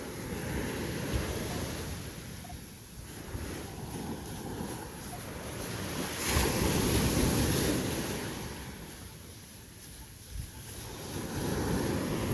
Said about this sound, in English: Listen to those waves, don't they sound magnificent?